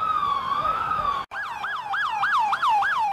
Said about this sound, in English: Sirens were wailing.